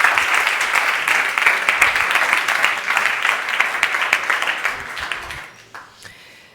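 An audience at a digital business talk breaks into sustained, dense applause that holds steady for several seconds, then thins into a few scattered claps and fades out.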